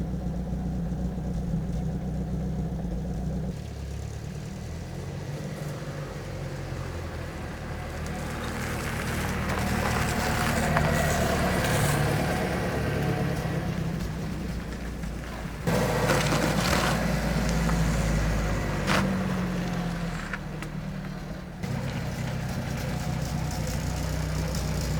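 A restored 1964 Citroën DS 19 Usine factory convertible pulling away and driving, its engine a low steady hum from inside the car, rising gently as it moves off, with occasional bumps and cabin noises.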